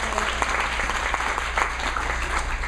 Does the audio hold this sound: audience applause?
yes